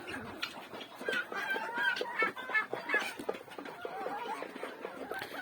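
Geese and other farm poultry cackle and cluck together in a continuous, busy, overlapping chorus of close calls, with no clear talk over it.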